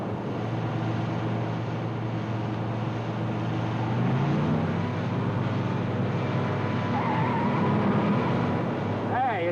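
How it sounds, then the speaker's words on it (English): A car approaches on a night road during a game of chicken, its engine hum building steadily and loud alongside another vehicle's drone. "There's another car coming."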